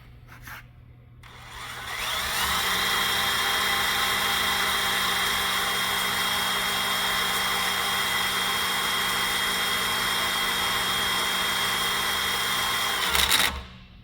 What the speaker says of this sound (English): we're going to go ahead and spin the bar, and then the reader head will produce results